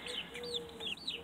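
Young 30-day-old Buff Orpington chicks cluck and peep in short, high chirps, several overlapping calls close by with no talking.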